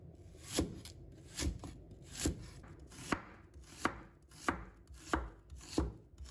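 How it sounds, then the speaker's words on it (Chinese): A knife cuts half an onion into shreds on a board, about eight evenly spaced, crisp chops landing close by at a steady unhurried rhythm, with no talking. "把它切成丝"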